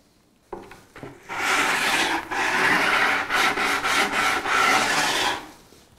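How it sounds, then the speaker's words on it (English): Rough back-and-forth rasping of a sanding block, a belt sander belt fitted around a 2x4, scrubbing wood, several quick strokes in a row, close and fairly loud. "This is my sanding block of choice. It's just a belt sander belt fitted around a 2x4."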